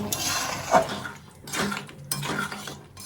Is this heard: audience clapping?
no